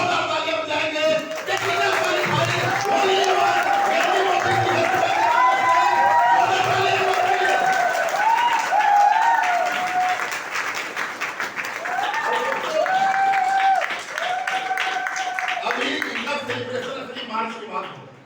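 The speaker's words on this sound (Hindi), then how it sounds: "उस व्यक्ति से मिलवाने के लिए मैं चाहूंगा एक बार आप लोग जोरदार तालियां बजाएंगे।" Loud applause from a large audience at a Hindi-language political gathering, sustained clapping and cheering that swells for over ten seconds before tapering off at the end.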